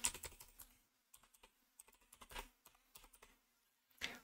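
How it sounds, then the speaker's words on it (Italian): Someone types a website address on a computer keyboard, producing quick, close clicks in short bursts separated by brief pauses, with a slightly louder final keystroke as if pressing Enter. "digitiamo l'indirizzo del sito e successivamente premiamo il tasto invio o enter sulla tastiera"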